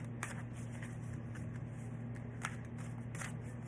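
Tarot cards being shuffled up close, a run of soft riffling and flicking with a few sharper snaps, over a steady low hum.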